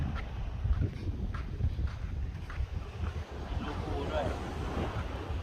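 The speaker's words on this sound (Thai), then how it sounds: "ตอนนี้เราอยู่ที่หาดบางมะรวดนี่แหละนะคะ" Steady surf and gusting wind at Bang Marued beach in Pattani, Thailand, a continuous loud roar with wind buffeting the microphone and no pauses.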